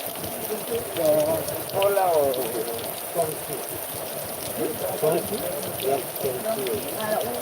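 Heavy rain hisses steadily in the background while voices talk over it, rising and falling.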